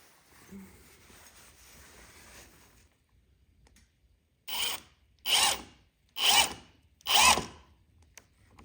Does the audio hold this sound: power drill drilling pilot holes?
yes